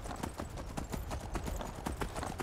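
Horse hooves clip-clop steadily in the video game Skyrim, a brisk rhythmic gait over a dense, loud ambient bed.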